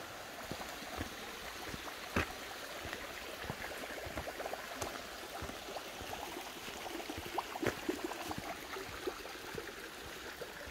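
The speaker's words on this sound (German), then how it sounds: "Schon ein kleiner Wasserfall." A small waterfall in the Combe du Pilouvi gorge splashes and gurgles steadily close by, a dense continuous wash of falling water with frequent small spattering bursts.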